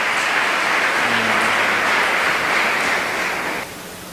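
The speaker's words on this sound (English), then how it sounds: "A round of applause once again for Dr. Leroy Almendares." A conference audience claps in a dense, steady round of applause for a speaker. It holds loud and even for about three and a half seconds, then drops off abruptly into quieter room noise.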